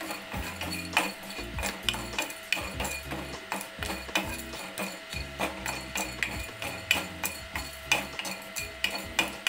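Cinnamon pieces and cloves fry in a pan for tomato rice, heard as a steady run of close clinks and scrapes of a spoon stirring against metal over a soft sizzle, with no talking.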